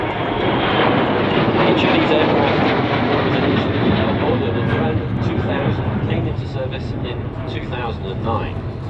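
An E-7A military surveillance jet flying at an Australian air show, a loud continuous engine roar and rumble that swells and slowly fades, with a commentator talking over it.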